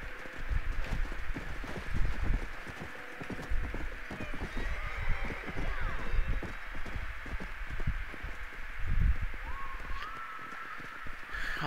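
Horse hooves clip-clop in irregular steps, fairly close, with occasional neighing and snorting over outdoor ambience and faint birds.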